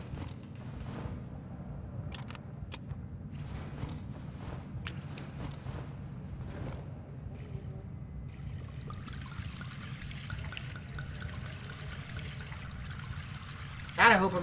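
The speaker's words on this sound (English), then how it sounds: "God, I hope I'm actually filling the generator," In the horror game Darkwood, gasoline glugs and trickles from a tank into a generator, a quiet ongoing pour mixed with creaks and small mechanical clicks, ending in a brief sharper knock.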